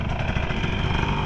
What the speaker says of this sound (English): So here's an actual KTM.